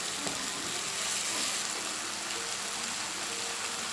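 Tomatoes sautéing in a pan, a steady, even sizzle and hiss that stays constant and fairly close, with no voices over it.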